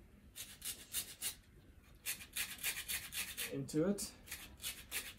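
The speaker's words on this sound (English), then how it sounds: "So we're going to be grating about half of the lemon zest" Lemon zest is grated by hand in a kitchen, making quick rhythmic rasping strokes in short runs with brief pauses. A short voiced sound interrupts near the end.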